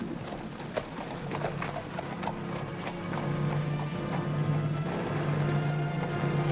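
Steady clip-clop of a horse's hooves pulling a wagon at a walking pace, fairly close, with a faint rattle and low background rumble throughout.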